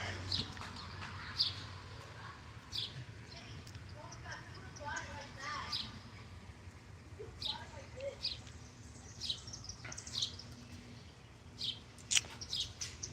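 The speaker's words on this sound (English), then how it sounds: "we're just here watching the birds come eat." Small backyard birds gathering to feed, with scattered short chirps and tweets at a moderate distance over a low steady background hum, recurring irregularly throughout.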